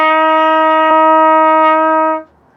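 A single sustained brass note, F played with the first valve, held steady and clear for about two seconds, then cut off cleanly, with no other sounds around it.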